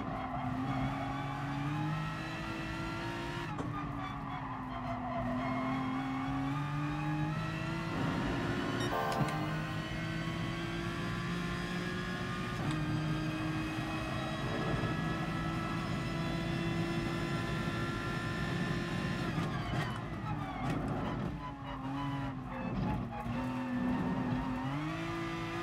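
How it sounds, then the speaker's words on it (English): A race car engine in the Gran Turismo Sport game holds a steady, buzzing high-revving tone with repeated gear-change dips and faint tire squeal, running continuously at moderate volume. "I like the sound of this car."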